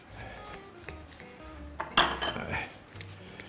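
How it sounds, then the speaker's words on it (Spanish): Squid being added to a pan while cooking squid-ink croquettes, with soft metallic clinks of utensils against cookware, one sharper clatter midway, over faint kitchen background. "vamos a poner los calamares y ahora es cuando calibramos"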